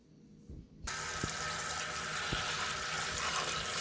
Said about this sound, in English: we're going to catch some water on it now and put it to boil